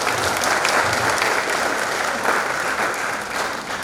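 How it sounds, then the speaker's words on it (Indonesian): An audience at a pesantren (Islamic boarding school) event claps together, producing a sustained, even wall of applause with a faint murmur beneath it. "tepuk tangan semua ini"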